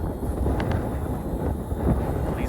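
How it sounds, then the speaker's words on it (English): Gusty wind buffets the microphone outdoors while an RC Era C138 helicopter flies, a loud low rumble with uneven surges and no clear speech. "These winds are really pushing down."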